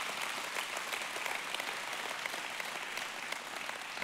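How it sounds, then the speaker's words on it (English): A church audience claps together in a round of applause, a dense, even patter of many hands heard from a distance and sustained throughout without a break. "Now give the Lord a round of applause there."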